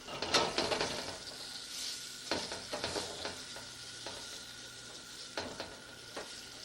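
Frog legs with tomato sizzling steadily in a hot pan while being turned over, a continuous close fry hiss broken by scraping clicks and taps of the utensil, no talking.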